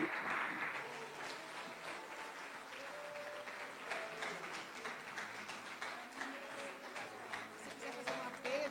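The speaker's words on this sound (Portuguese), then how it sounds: "Dê uma salva de palmas a Jesus" A church congregation gives sustained applause at a sermon, a dense, even wash of many hands clapping that holds steady, with faint voices beneath.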